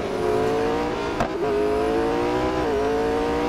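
A McLaren race car in the Real Racing 3 mobile racing game holds a steady, loud engine drone with a brief gear-shift dip and a faint tire squeal, the pitch climbing gently as it accelerates.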